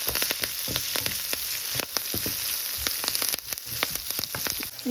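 Ingredients for a Kerala-style mango pickle sauté in a hot pan, a loud crackling sizzle with frequent popping spatters and the scrape of stirring, close up and with no voices.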